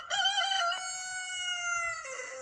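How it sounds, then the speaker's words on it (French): A rooster crows outdoors, a single clear cock-a-doodle-doo at moderate distance, starting with sharp notes and stretching into a long sustained call before a brief drop at the end. "Ah, encore un coq déréglé."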